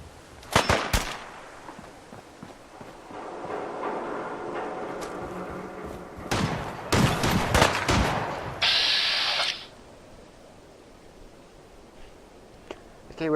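Gunfire in Fallout 4 VR: several sharp bursts of shots crack out in quick clusters at moderate distance, with a rattling, echoing tail between volleys and quieter stretches in between.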